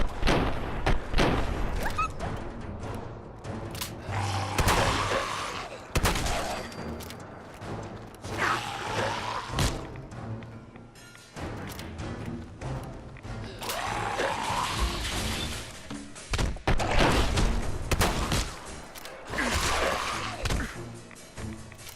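Fallout 4 combat: repeated sharp gunshots and heavy thuds, crashes and impacts run nearly nonstop for over twenty seconds, loud and close, with no talking.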